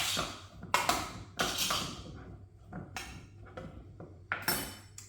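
Ingredients for coco beef and potatoes are mixed in a bowl, giving a few scattered clinks and scrapes of utensil against dish, close but fairly quiet with no talking.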